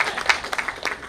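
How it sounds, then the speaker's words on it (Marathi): Audience applause at a Marathi book launch for a novel on the battle of Pratapgad fort: a brief, moderately quiet patter of scattered claps lasting about a second. "टाळ्या वाजवायला हरकत नाही"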